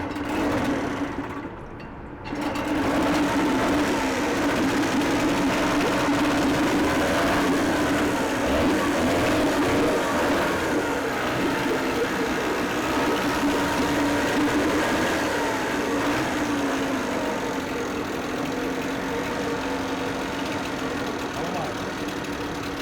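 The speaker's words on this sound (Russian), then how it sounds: "И после этого мы смогли запустить мотор." A new Chinese outboard boat motor with a factory defect runs steadily after a brief pause at the start, a loud, continuous close-up engine drone with a rattling texture.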